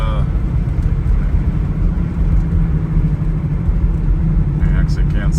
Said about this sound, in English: So we'll turn around here at the corner and go through the gears for you.